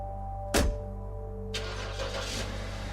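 A car's engine catches with a brief loud burst, then settles and pulls away, a steady idle hum continuing underneath before a broadband whoosh of driving off.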